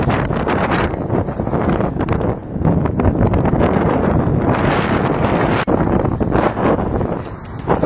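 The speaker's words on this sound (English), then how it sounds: "But that is a serious" Strong gusty wind outdoors in a park, roaring and buffeting hard against the microphone, loud and close throughout with brief lulls.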